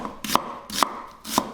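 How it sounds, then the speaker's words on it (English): Knife on a cutting board finely dicing onion for an Indonesian yellow curry, three distinct, evenly spaced chopping knocks, close and crisp with quiet pauses between. "just sort of fine dices, or roughly fine dices of onion"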